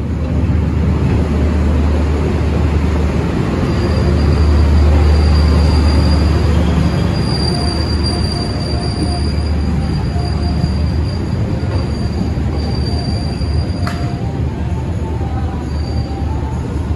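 Sri Tanjung passenger train rumbling steadily along the rails, heard loud and close from inside a carriage, with continuous low wheel roar, faint high squeals, and a brief louder swell partway through.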